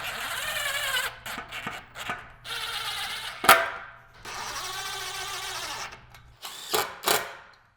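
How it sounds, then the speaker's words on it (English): A power drill with a 1/8 inch bit pre-drilling hinge holes into a gate post, several whirring bursts of a few seconds with short pauses and clicks between them, close and clear. "pre-drill where the hinges will be going into the post using an 1/8 inch drill bit"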